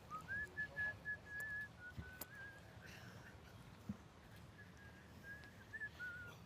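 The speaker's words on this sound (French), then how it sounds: "C'est lui que vous entendez siffler, c'est pas nous." A man whistles during a pétanque semi-final at the Béziers Masters, sustained thin whistled notes near the start and again at the end, faint over a murmuring outdoor crowd.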